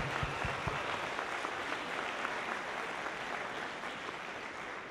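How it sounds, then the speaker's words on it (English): Audience applause at a 2018 FIRST robotics district event opening ceremony in Tippecanoe, a steady wash of many hands clapping in a large hall with a few sharper claps near the start, then fading slightly. "Come on, give yourself a hand."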